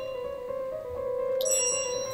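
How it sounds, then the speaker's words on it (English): A bright bell in Untitled Goose Game rings out clearly over a steady tonal music drone, one sharp metallic strike near the end with a lingering shimmer. "What a beautiful bell."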